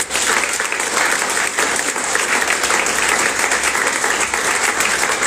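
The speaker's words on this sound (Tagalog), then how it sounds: "The best na palakpak sa Diyos." A church congregation applauding, loud continuous clapping from a large crowd sustained for the full length without pause.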